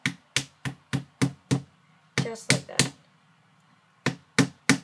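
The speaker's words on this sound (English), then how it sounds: "grab the hammer, and slowly start hammering it" Hammer gently tapping a homemade stylus held in one spot, a series of sharp, evenly spaced light knocks close by in two bursts separated by a brief pause with a few softer sounds and a short spoken phrase.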